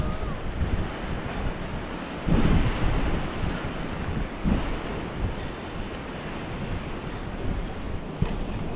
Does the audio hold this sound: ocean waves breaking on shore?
yes